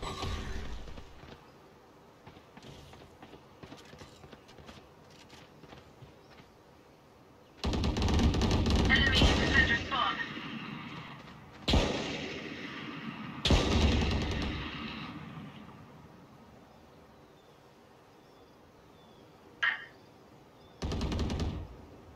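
Bursts of gunfire from the tactical shooter Valorant, several loud broadband volleys with short gaps between them, and a brief sharp shot near the end.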